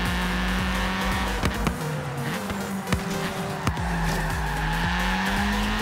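Ford Fiesta skidding through a corner during a Forza Horizon 3 race, tires squealing in long sliding tones over a steady, loud engine drone, with a few sharp thumps along the way.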